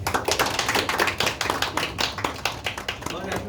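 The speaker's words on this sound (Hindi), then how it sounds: "बहुत बढ़िया, तालियां आपके" Applause at an office farewell: brisk, close clapping from a small group, sounding dense and steady over a few seconds, with voices mixed in.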